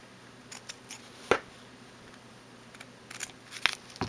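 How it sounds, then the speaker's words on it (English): Scissors snipping the edges of a hot chocolate pouch, a few sharp close crisp cuts spaced apart with quieter rustling handling noises between them, no talking. "and then I just cut the edges"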